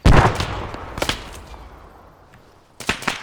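Magnum pistol shots in the Halo video game, a sharp crack at the start, another about a second later and a further pair near the end, each with a short echoing tail.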